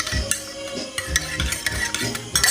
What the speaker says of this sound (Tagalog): Stir natin hanggang matunaw ang snowball.